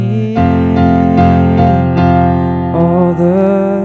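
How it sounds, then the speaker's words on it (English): Sustained piano with a held F in the left hand and F octaves in the right, ringing continuously and loud, with a chord change and fresh attack near the end; no talking. "So you just hold out that F with the left hand and then the F octaves with the right hand."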